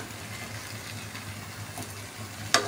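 Water is poured into a hot pan of frying potatoes and pointed gourd for a prawn curry. A low, steady background gives way near the end to a sudden, loud burst of sizzling.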